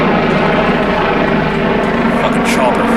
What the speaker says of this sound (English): chopper flying overhead